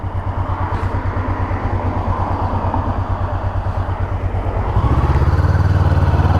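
A Honda motorcycle engine idles with a steady, rhythmic low chug, close and fairly loud. Near the end the pulse quickens slightly as the revs rise a little.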